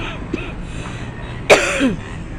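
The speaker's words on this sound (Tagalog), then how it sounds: "Medyo matigas yung ubo ko guys." A single sharp cough rings out midway, followed by a brief throaty rasp, over a low background hum.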